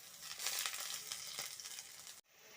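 Ginger-garlic paste hits hot oil in a wok already holding fried green chilies and chopped onion, for a cauliflower and fish curry; a steady close sizzle runs alone for about two seconds, then cuts off abruptly.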